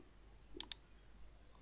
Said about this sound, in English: Then click on email test.